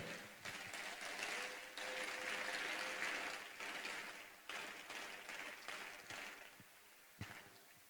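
A congregation's applause in a church service, moderately distant and fairly quiet, with a swelling burst of clapping that thins into scattered claps toward the end.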